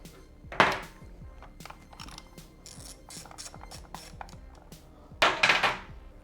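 A bottom bolt on Honda Grom (MSX125) crash bars is backed out with a ratchet: fast, close metallic clicking runs throughout, with a louder clunk near the start and another near the end as the bolt shifts.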